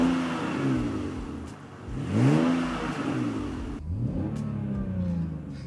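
An old BMW 7 Series with a German six-cylinder engine is revved in a few rising and falling sweeps, heard fairly close, with no voices.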